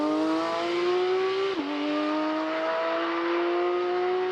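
A Porsche 911 GT3 RS engine revs hard and steadily, its pitch climbing, dipping abruptly for a brief gear shift near the middle, then rising again, loud and close with no talk.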